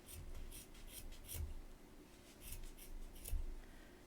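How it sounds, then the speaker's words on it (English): Scissors snip through loops of crochet yarn on a cowl, several crisp, quiet cuts coming in small bursts with soft rubbing between them and no one talking. "I'm just going to start clipping these loops."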